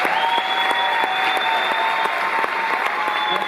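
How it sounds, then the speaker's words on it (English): Concert audience at Playhouse Square, Cleveland, applauding steadily and loudly throughout, a dense wash of clapping with scattered cheers over a constant sustained tone. "I want to really make sure he gets applause for this"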